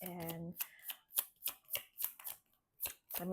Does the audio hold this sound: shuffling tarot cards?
yes